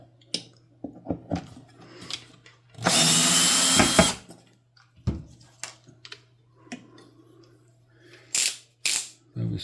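A power drill on its torque setting, used on a 1965 Fender Bassman amplifier head, gives one loud, close whirring burst of about a second. Scattered clicks and handling knocks come before and after it.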